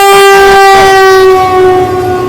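Train 15909, the Awadh Assam Express from Dibrugarh to Lalgarh, rushes past at high speed, sounding a loud, sustained horn very close, with rumbling wheels and rail noise underneath.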